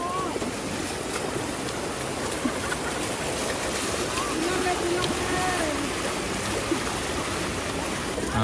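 Fast-flowing floodwater of the Batang Bayang river rushes in a constant broadband roar, close and steady, with wind buffeting the microphone and faint voices underneath.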